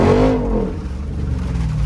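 A Jeep Rubicon 392 in two-wheel drive, with traction control off, launching hard in second gear: the engine roars up loudly as the tires spin, followed by a sustained rough, close roar.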